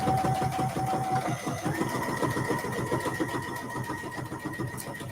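A sewing machine quilts with a straight stitch at a 2.5 mm stitch length, producing a rapid, even mechanical chatter that runs continuously, fairly close, with no speech over it.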